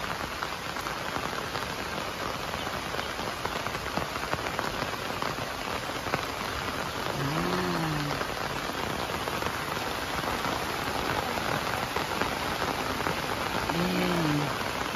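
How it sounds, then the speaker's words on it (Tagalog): Heavy rain pouring steadily onto surfaces outdoors on an afternoon, a dense constant hiss that stays loud, with faint bird calls briefly heard beneath. "Grabe ulan guys. It's raining."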